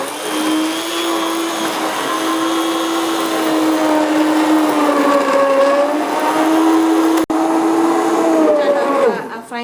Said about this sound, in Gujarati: પછી આપણે મારા હેન્ડ બ્લેન્ડર લઈને એને બ્લેન્ડ કરશું।